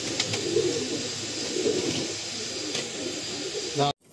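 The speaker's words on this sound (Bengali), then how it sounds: "দুটোই চটিয়াল পায়রা।" A pair of young chotiyal pigeons cooing in soft repeated rolling calls, close by, over a continuous hissing background, ending in an abrupt cut.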